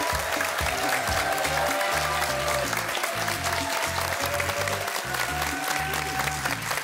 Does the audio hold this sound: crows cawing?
no